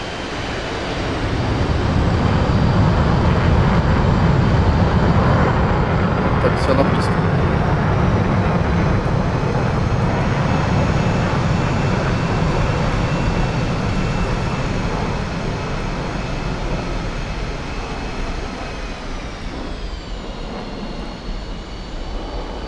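An F-5E Tiger II jet in the DCS flight simulator taxiing with its canopy open, a loud steady engine roar and broad rushing noise that holds constant, easing slightly toward the end, with no talk.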